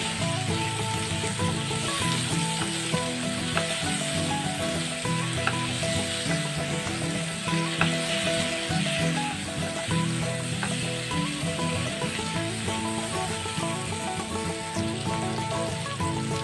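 Spices and potatoes for a vegetarian aloo dum being mixed in a frying pan, a continuous loud sizzle with steady stirring scrapes throughout, no voices.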